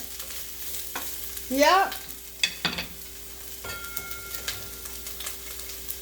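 Garlic and onions frying in oil in a pan, a soft sizzle under scattered stirring and scraping noises, one brief loud clatter, and a short spoken word.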